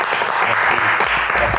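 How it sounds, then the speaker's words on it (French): A crowd claps steadily and densely throughout, a continuous wash of applause with no pauses. "on l'applaudit."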